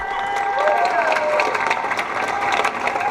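Outdoor crowd at a First Nations land march in downtown Toronto applauds and cheers for a group of singers and drummers. Scattered clapping mixes with whoops and raised voices, moderately close and lively throughout.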